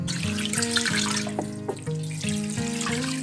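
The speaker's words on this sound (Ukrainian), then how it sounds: "І заливаємо холодною водою, наголошую, холодною водою" Cold tap water runs steadily into a pot of pork ribs for borscht, a continuous close splashing stream with a rising filling tone.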